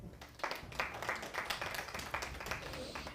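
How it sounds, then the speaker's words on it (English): A group claps for itself after a contest result, a burst of fairly quiet, uneven hand claps that starts after a brief pause and carries on steadily for a few seconds. "Clap for yourselves."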